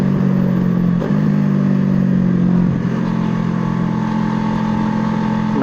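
A Kawasaki Versys 650 motorcycle engine runs close by during a throttle test, holding a steady, loud mechanical drone with only slight shifts in pitch and no talking.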